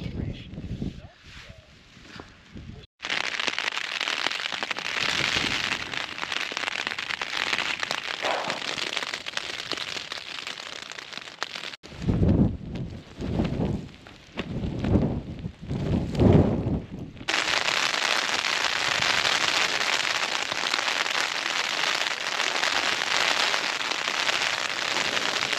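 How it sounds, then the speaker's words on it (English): A rain shower patters onto an MLD Duomid tent at a wild camp in the Lake District, a dense close hiss of drops on fabric that cuts in and out, with a voice talking in between. "Right, here's the rain."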